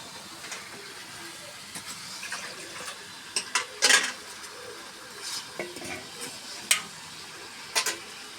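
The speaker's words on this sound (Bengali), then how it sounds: "ভালো করে নাড়ে চাড়ে কষে নিয়ে" Food being stirred and fried in a pan while jute leaf lentils are cooked, with quiet sizzling broken by irregular scrapes and a few sharper clatters of the spoon against the pan, close and moderately loud.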